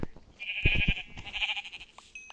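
A Minecraft sheep bleats in a couple of wavering calls, close and moderately loud, with a few soft thumps around it.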